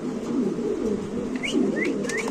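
Caged Bombay pigeons coo in a low, rolling murmur close by, with a few brief higher chirps slipping in over the steady throaty sound.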